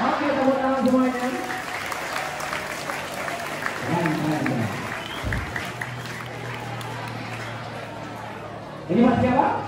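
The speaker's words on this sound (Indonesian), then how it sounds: "Oke, tepuk tangan semuanya." A school audience claps together in a broad, steady wash of applause that carries on for several seconds, while voices chatter over it and a louder burst of clapping comes near the end.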